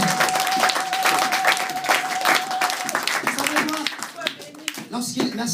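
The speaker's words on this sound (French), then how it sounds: "Est-ce que tu peux me donner une acclamation pour la gloire de Dieu?" A church congregation applauding and cheering in praise during a French worship service, loud sustained clapping with voices of the crowd mixed in, tapering into scattered claps toward the end.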